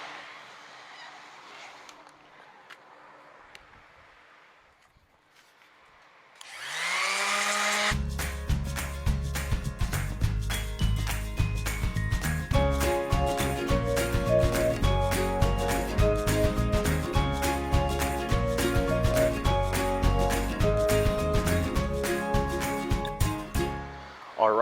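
After a quiet stretch, a power sander kicks on against body filler on a Scamp trailer and runs loud and close, a harsh, whining buzz with rapid rhythmic pulsing that carries on steadily to the end.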